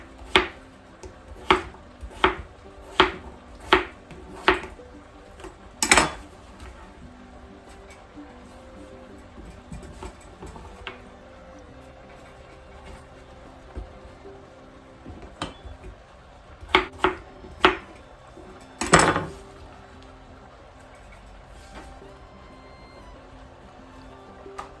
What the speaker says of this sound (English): And just give this a quick chop.